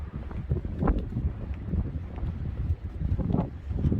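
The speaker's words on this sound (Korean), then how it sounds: "바람이 불어서요" Wind gusts buffet the microphone at a seaside breakwater, a steady low rumble with rustling surges that rise and fall, moderately loud, with no talking.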